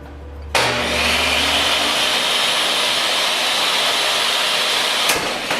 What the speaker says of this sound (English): Let me show you what a simulation of a kickback could look like.